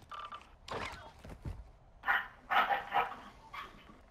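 A dog barks in a video game, giving several short, sharp barks in quick bursts of two and three, fairly close, with soft background noise between them.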